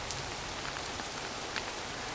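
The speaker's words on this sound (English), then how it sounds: "Just got all ready to go, and in comes the cloud and the rain." Rain falls at a mountain trailhead near Tamarack and Blue Lakes off Highway 88, a steady, even hiss of drops with occasional sharper patters and no voices.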